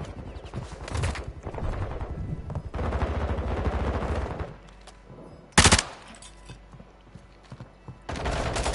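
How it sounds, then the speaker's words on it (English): Video game gunfire, loud automatic bursts in several long stretches broken by quieter gaps, with one sharp, very loud shot in the middle. "Taking effective fire!"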